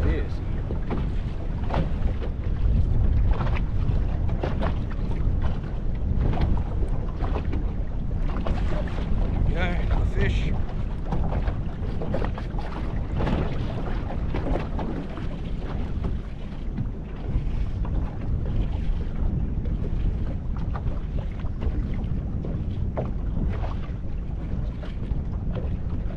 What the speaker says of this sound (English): The wind is getting fierce.